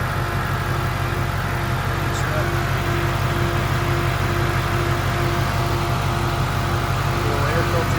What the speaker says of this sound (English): Powered by Ford, hand-built GT350 Voodoo engine. Runs like a dream.